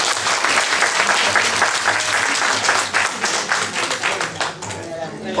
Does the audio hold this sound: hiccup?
no